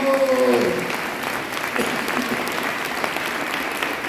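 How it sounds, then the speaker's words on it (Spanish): A church congregation claps loudly and steadily, a dense wash of applause that holds for several seconds. "Den un fuerte aplauso al que vive y reina por los siglos."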